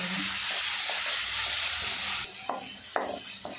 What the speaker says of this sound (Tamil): வெங்காயத்தோட கலர் கொஞ்சம் சேஞ்ச் ஆகிற அளவுக்கு வதக்கி விட்டுக்கலாம்